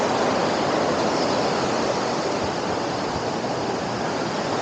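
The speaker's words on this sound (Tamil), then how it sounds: "தண்ணி பாருங்கள் இப்படி விழுகுது பாருங்கள்" Water plunges forcefully over a dam at Sithathipuram, a dense, continuous roar of falling water, loud and close, without pause or voices.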